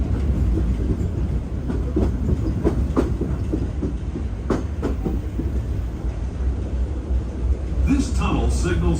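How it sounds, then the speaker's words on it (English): A Disneyland railroad train rumbles steadily along the rails with rhythmic clicking and clacking, heard from inside the car, while people talk faintly and a brief squeal rises near the end. "Our next stop is Toontown Depot, official train station for Mickey's Toontown"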